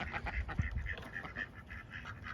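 Ducks quack in a busy, overlapping chatter close by, several birds calling at once over a soft outdoor background with no talking.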